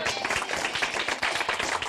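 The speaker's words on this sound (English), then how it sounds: "You ought to clap for Jesus." A church congregation at a Marcus Stevenson Jr. Ministries service claps for Jesus, a dense, bright wash of many hands filling the room throughout a short burst.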